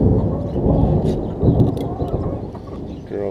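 Low rolling thunder from a storm moving in on a hot summer day, a loud, sustained rumble that swells near the middle and fades, heard outdoors.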